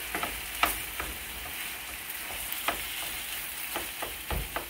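Shrimp fried rice with soy sauce sizzles steadily in a hot pan while a utensil stirs and breaks up clumps, adding scattered scraping clicks over the constant frying hiss.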